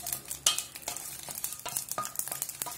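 Dry red chillies fry and crackle in hot oil for a sambar tempering while being stirred, a continuous close sizzle with sharp pops and scraping stir strokes, no talk.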